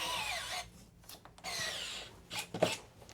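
A dying electric screwdriver tightening screws on a PS5 console, a whining buzz whose pitch wavers and slows, stopping and restarting in short bursts close to the microphone.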